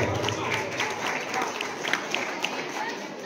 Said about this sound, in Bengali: জোরে হাততালি হোক